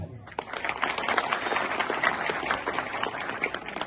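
An audience claps at a door-to-door program gathering in Jhalawar: a fairly faint, continuous patter of many hands across the whole stretch, with a voice faintly mixed in.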